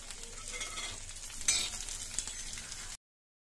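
Garlic, chillies and peanuts frying in a pan make a steady, bright sizzle with scraping stirring strokes. A sharper hiss flares up midway, and the sound cuts off abruptly near the end.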